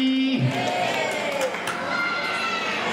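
A crowd at a community gathering in Badargadh breaks into applause and cheering, a dense, steady wash of clapping and shouts that carries on without pause after a brief voice.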